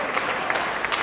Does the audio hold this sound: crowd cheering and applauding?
yes